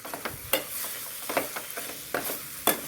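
Torn African coriander leaves stirred in a hot pan for a chutney: soft sizzling under a handful of sharp spoon scrapes and clacks at irregular intervals, close and fairly quiet.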